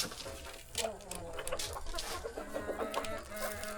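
Rhode Island and native chickens cluck in a farm pen, a steady overlapping chorus of clucks and short calls running throughout at close to moderate distance.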